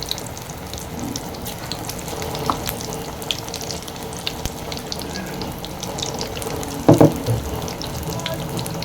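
Onion bajji fritters in batter bubbling and sizzling in hot oil, a continuous dense frying hiss with a few scattered pops and a brief clunk of utensils, close and steady.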